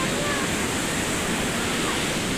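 Sea waves wash in at Devgad beach, a broad continuous roar of surf close by with no breaks, and voices faintly mixed in.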